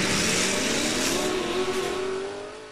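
Hot Wheels toy cars, including a 2019 Ford Escort and a Fast and Furious Ford Escort, racing down a rally-themed track, overlaid with a loud, steady revving race-car engine sound that rises in pitch and fades slightly at the end.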